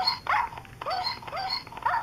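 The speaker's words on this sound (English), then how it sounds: "I came across this dog" A dog in the Minecraft video game gives several short, high whining yelps in quick succession, close and fairly loud, with no talking.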